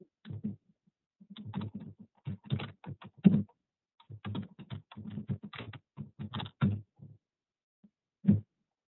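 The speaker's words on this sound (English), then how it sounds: "I'm going to type in a South American connection." Bursts of keystrokes on a computer keyboard, close and clear, typed in uneven runs with short pauses and one final tap.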